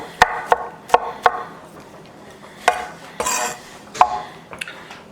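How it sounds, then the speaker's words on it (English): A kitchen knife rough-chopping mushrooms on a board, a series of sharp, close knocks in an uneven rhythm with brief scraping in between, no talking. "Then we can just do a rough chop on those."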